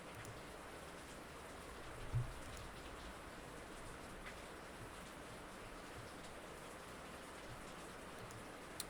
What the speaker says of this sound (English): it's been raining all day here in the state of Florida